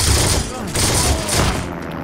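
Bursts of rifle and machine-gun fire in the Heroes & Generals online shooter, with M1/M2 weapons, crackle steadily and loud through the whole stretch, layered with battle noise and faint voices.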